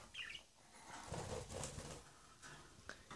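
Pet budgerigars let out of their cages flutter about indoors: soft, irregular bursts of wing flapping, fairly faint and close, with a few light chirps mixed in.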